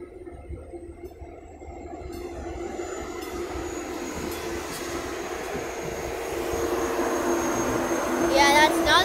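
A TEXRail commuter train pulls away from a station with a steady, low rumble that slowly grows louder, a faint high tone above it and some voices nearby.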